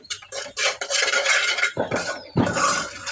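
A spoon stirs potato kurma in a pan to break up lumps, making loud, close, scraping and clattering strokes against the metal in quick bursts.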